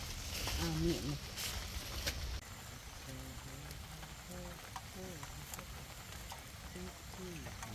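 Light drizzle falls outdoors at a rural hut in Laos, making a soft, steady hiss that is a little stronger at first and then settles lower, with a voice speaking over it.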